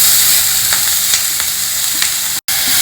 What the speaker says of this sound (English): and also some curry leaves. Next, add in this grated amla.